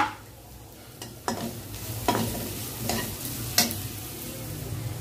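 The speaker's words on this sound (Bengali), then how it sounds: "তো আমি পেঁয়াজগুলো ভেজে একটু, গতকালকে টমেটো ভেজে রেখেছিলাম, তো এগুলো দিয়ে দিব এখন" Onions and tomatoes fry in a pan with a soft sizzle beneath several sharp scraping stirs of a utensil against the pan, spaced about a second apart, no talking.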